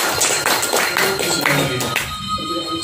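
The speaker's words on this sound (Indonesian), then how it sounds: "Tepuk tangan dulu buat kita semuanya." A crowd at a training workshop claps in quick rhythmic bursts for a couple of seconds, fairly loud and close.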